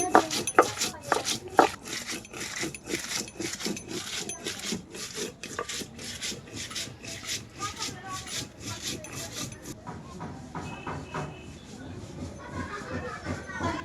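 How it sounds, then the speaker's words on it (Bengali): Ginger, cumin, garlic, cardamom and dried chili are ground by hand on a stone slab, giving repeated close rasping rubs in a steady back-and-forth rhythm that fades to softer scraping near the end. "আদা জিরা রসুন আর হচ্ছে দুইটা এলাচ শুকনা মরিচ এগুলোই বেটে নিচ্ছি"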